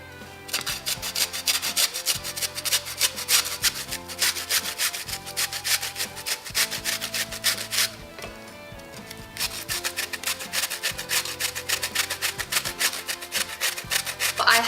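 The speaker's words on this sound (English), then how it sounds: "Now we're just going to grate the zucchini." Zucchini being grated by hand for keto muffins, rhythmic rasping strokes in steady runs, close and clear, with a short pause midway and no talk.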